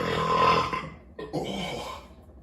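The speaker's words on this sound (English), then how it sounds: "That was an IPA burp." Two loud, close burps after drinking an IPA beer: a long, drawn-out belch, a brief pause, then a second, rougher one.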